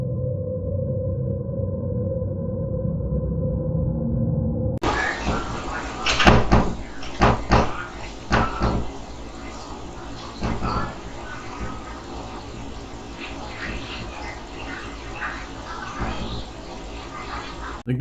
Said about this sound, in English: these are some loud knocks, and then it gradually quiets down